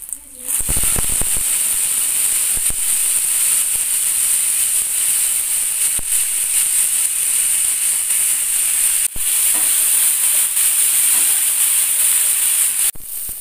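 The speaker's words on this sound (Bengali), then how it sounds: "তেলটা ভালো করে গরম হয়ে গেছে, ফুলকপিগুলোকে আগে ভেজে নিতে হবে।" Salted cauliflower florets fry in hot oil, a loud, constant close hiss and sizzle running the whole time with a couple of sharp splutters and knocks near the start.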